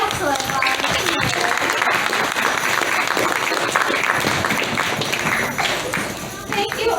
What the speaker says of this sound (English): We get another round of applause for our excellent volunteers.